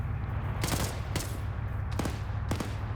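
Bursts of automatic gunfire in a video game battle as a player empties a magazine, several sharp rapid volleys spaced over a steady low rumble of engine and ambient noise.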